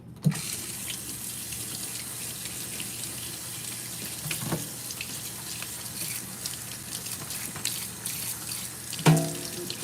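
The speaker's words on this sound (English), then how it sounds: "We're gonna rinse this spoon off." A spoon is rinsed under a running kitchen tap in a steady wash of water with a few brief clinks and splashes against the sink, continuing alone throughout without any voices.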